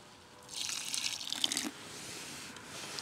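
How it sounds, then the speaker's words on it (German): Water is poured into a dry fishing bait mix to moisten it, a short hissing splash of about a second that stops and leaves a quiet background, with no talking. "Und jetzt einfach noch mit Wasser anfeuchten."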